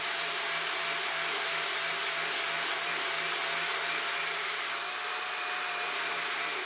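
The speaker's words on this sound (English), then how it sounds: "you will need a vacuum cleaner for this" A vacuum cleaner runs steadily on the carpet of an old abandoned Rolls-Royce under restoration, a loud, constant whooshing drone with a fixed motor whine, close up and uninterrupted, with no talking.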